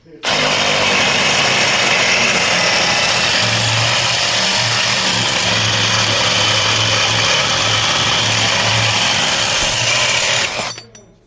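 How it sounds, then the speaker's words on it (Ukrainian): A cordless LEADER Ultra BL20-22M reciprocating saw with a large-toothed blade cutting an aluminium profile: loud, steady buzzing runs continuously for about ten seconds with a harsh grinding edge, then cuts off abruptly. "Поставив пилку з більшими зубами і зараз спробуємо розрізати."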